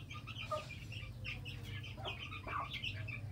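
Several white Aseel hens cluck in short, uneven bursts close by, with farmyard background noise beneath and no talking.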